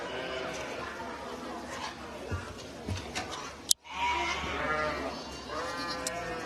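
Sheep bleat in a lambing roundhouse, several animals calling at moderate distance over a steady barn hum, with a sharp knock partway through and people talking faintly nearby.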